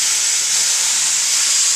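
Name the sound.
steam hissing out of a cooker lid under cold running water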